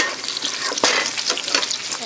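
Lobster tail fries in a hot pan with a steady, close, loud sizzle and a sharp spatter burst near the middle, no voices.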